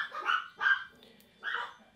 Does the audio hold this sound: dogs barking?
yes